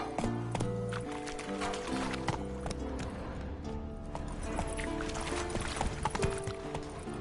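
Roach the horse gallops in The Witcher 3, with quick rhythmic hoofbeats running under game music and effects at a low, even level.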